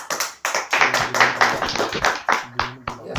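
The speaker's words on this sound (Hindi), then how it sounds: "जोरदार तालियां इन्हां दे वास्ते।" Audience applause for a quiz team at a Bible quiz competition, a burst of brisk hand clapping that swells and fades over a few seconds, close and lively, with a little talk mixed in.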